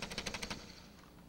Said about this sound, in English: I think we've got a microphone over there on the keyboard, and we'll try to do some typing here.